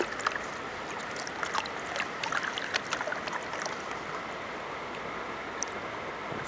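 Water and blonde sand swirl and slosh in a gold pan on the Lewis river. The gentle watery churning is continuous and fairly faint, with small splashes on top of a steady stream backdrop.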